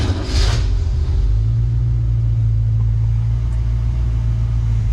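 A 1966 Ford Mustang engine with Sniper EFI fires up hot with no throttle, settling into a loud, steady, deep idle rumble that stays even and close for the rest of the moment.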